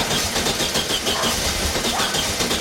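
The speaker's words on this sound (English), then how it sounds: "Trying to start" VW Beetle engine cranking and trying to start after an ignition switch replacement, with a sticky throttle: a continuous, rough, churning mechanical rumble with an uneven pulsing rhythm, close and fairly loud, with no voices.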